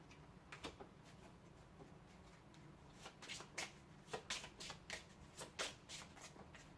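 Lightseekers trading cards are shuffled and handled during a tabletop match, giving a string of crisp, close flicks and snaps that bunch into quick bursts over a low room hum.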